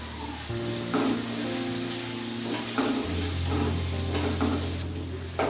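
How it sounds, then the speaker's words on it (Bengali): Potato pieces seasoned with salt and turmeric frying in a pan for samosa filling, a soft continuous sizzle with faint stirring scrapes, close and moderately quiet, with no voices. "আলুগুলো মোটামুটি আমার ভাজা হয়ে গেছে"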